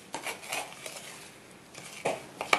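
Spoon scraping and clinking in a bowl as melted oil and shea butter are stirred into a pink bath fizz mixture, a few soft scrapes followed by sharper clinks near the end.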